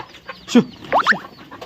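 Country chickens clucking nearby, a few short bursts of hen calls over a quiet background.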